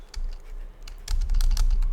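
Quick keypresses on a computer keyboard entering numbers into a calculator app, a short run of clustered clicks over a steady low hum, close and moderately loud, with no voice.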